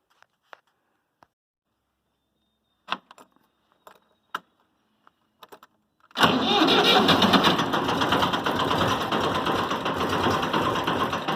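A 6.0 Powerstroke diesel engine with a newly fitted alternator cold-starts after several faint clicks and small knocks, catching abruptly and settling into a loud, steady, rough idle close by.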